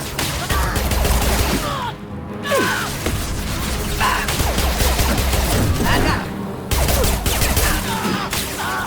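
Rapid gunfire crackles in a firefight from the video game Mass Effect 2, coming in dense repeated bursts with brief pauses while voices shout and gasp underneath.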